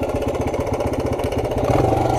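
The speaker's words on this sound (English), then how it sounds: "As you can see, it's idling right now," A newly acquired motorcycle idles close by in first gear on a roadside, its engine putting out a steady, even low throb with faint rhythmic pulsing, fairly loud and alone without talk.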